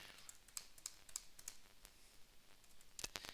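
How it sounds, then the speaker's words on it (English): Someone types on a computer keyboard in a quiet room. Quick, uneven bursts of soft key clicks and clacks run throughout, close and faint. "I have to do some typing here."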